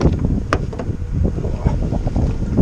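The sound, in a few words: wind blowing into the microphone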